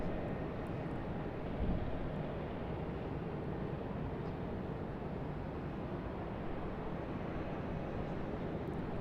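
An airliner lands at Sydney Airport, heard as a steady, faint, distant broadband jet rumble that holds evenly throughout.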